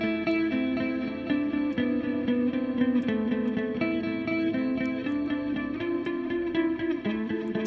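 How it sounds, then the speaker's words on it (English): Electric guitar run through a flanger effect on an STL Tone Hub, strummed chords ringing steadily with a sweeping, swirling modulated shimmer and slight grit, played alone and continuously. "Check out the flanger."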